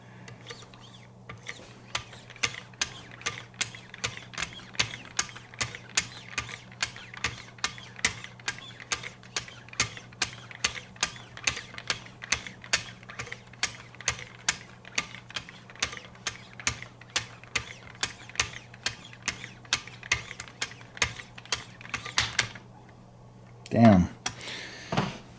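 A Benchmade 2500 Mini Reflex auto knife is sharpened on an ultra-fine 0.3 micron stone by a guided system, with a steady run of evenly spaced light scraping strokes ending with a brief clunk.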